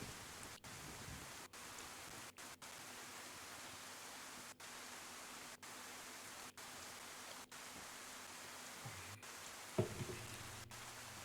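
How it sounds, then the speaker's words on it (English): Steady rain pours down in the video game DayZ, a dense even hiss with brief regular dropouts and a single soft thump near the end. "we're fully wet anyway, so it doesn't really matter if I spend more time out in the rain"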